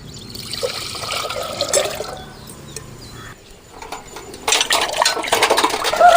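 Water from a small vessel trickles and splashes into a cooking pan on a stove, making a soft, uneven pour that swells louder toward the end.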